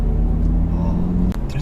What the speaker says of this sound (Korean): 아이코닉 사운드가 딱 꺼지게 되면 바로 이제 가솔린 엔진이 가동되는 소리는 좀